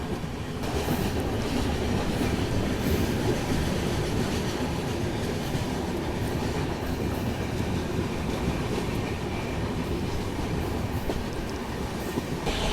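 A Rajdhani Express runs at speed toward the Bogibeel rail-cum-road bridge, heard from inside as a loud, steady rumble with rhythmic clickety-clack of wheels over the rails throughout.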